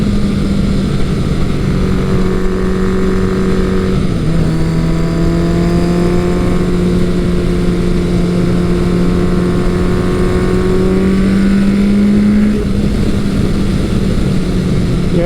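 A Kawasaki Eliminator 900 motorcycle engine pulls hard under acceleration, a loud sustained drone whose pitch climbs through gears with brief shifts, heard close and continuous without talk.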